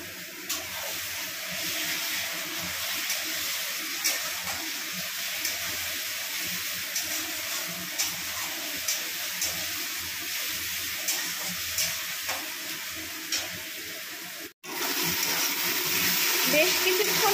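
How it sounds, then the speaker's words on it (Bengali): Water is poured into a bowl that held garlic and tomato paste to rinse it into a pan of young jackfruit curry. A steady splashing hiss runs throughout the clip, with a brief cut near the end, and faint voices may sit underneath. "আর এটা একটু জল দিয়ে আমি ধুয়ে দিয়ে দেবো।"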